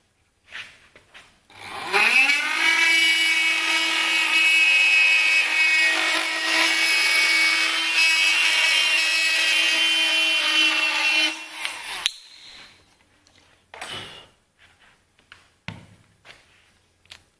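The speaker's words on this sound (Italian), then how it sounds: "Ora lo useremo come un Dremel normale" A Dremel rotary tool cuts a hole in a 5 mm panel with a loud, high, steady whine for about ten seconds, then stops, followed by scattered handling clatter.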